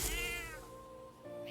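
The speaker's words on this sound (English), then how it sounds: "That's a good kitty." A cat meows in the video game Metaphor: Refantazio, one drawn-out, wavering meow that fades over about half a second, followed by a quiet background hum.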